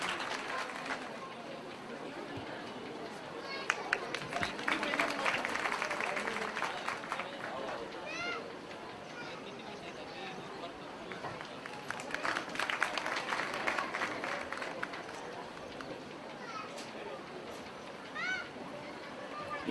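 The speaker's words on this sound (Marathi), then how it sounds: "जोरदार टाळ्या वाजवून या सर्व आयोजकांचं आपण अभिनंदन करूया" Applause from the audience at a wedding matchmaking gathering in Pune, a sustained patter of many hands clapping that swells twice, with crowd murmur and voices beneath.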